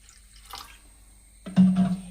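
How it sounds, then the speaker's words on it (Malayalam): Half a cup of water is poured into a drumstick soup mix in a pot, a short splashing pour arriving after a quiet moment with a faint earlier clink. "ഞാനൊരു 1/2 കപ്പ് വെള്ളം കൂടെ ഇതിൻ്റെ അകത്തോട്ട് ചേർക്കുവാണ്."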